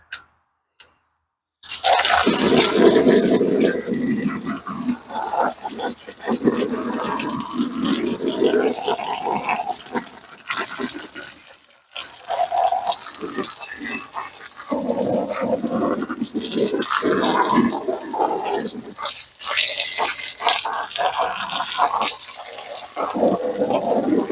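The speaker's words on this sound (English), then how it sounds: "And we're just gonna hose this down real quick." Garden hose spraying water to rinse down a backyard waterfall after a liner reseal; a steady, fairly loud broadband wash of spray runs almost continuously, with a brief gap near the middle.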